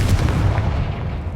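A Confringo blasting spell explodes in the Hogwarts Legacy video game as a loud, booming burst with a deep low rumble that holds steady through the moment.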